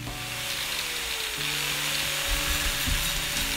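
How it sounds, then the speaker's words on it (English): A cutting wheel rated for stainless steel bites into a ceramic pot, making a close, loud, continuous whine that shifts pitch as the wheel loads and slows, with gritty grinding underneath and no speech. "this cutting wheel is good for stainless. I think it'll get through ceramic."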